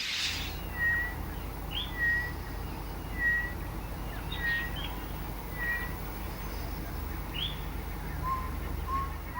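Birds in Kenya's Rift Valley near Lake Nakuru give short, repeated whistled calls at fairly even intervals over a constant low rumble, fairly faint and without speech.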